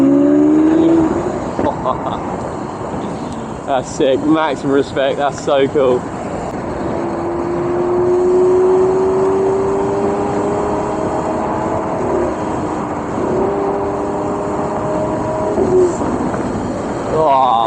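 A green Lamborghini's engine revs with a rising, droning tone that swells and holds, loud and close, while people talk excitedly over it.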